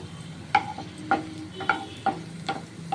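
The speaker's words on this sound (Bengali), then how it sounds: "এই মিক্সির মধ্যে এই শাকটা একটু নেড়ে নেব" Pumpkin leaves and green chillies stirred with a spoon inside a mixer jar, giving bright, ringing clinks roughly twice a second over a soft background hiss, close and fairly clear, with no talking.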